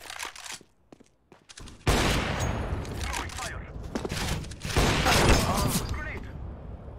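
Rapid bursts of video game gunfire crackle loudly and almost continuously, with a brief lull before the shooting resumes, while a voice speaks over it.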